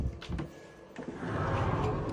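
A sliding separating door inside a Concorde Charisma motorhome is pulled open, giving a few soft knocks followed by a longer rolling, sliding rumble at close range.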